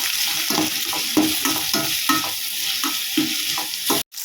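Onions sautéing in a pan for a fish curry, a loud, continuous sizzle with a regular rhythm of stirring strokes about twice a second, close up and with no voices.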